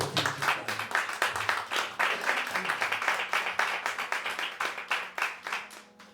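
A church congregation claps steadily together for several seconds, a dense run of sharp hand claps filling the room, with a faint voice beneath.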